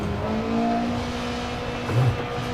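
A race car engine in a racing video game revs high past its limit, a sustained tonal whine holding steady with slight wavering, and a short low thump near the end.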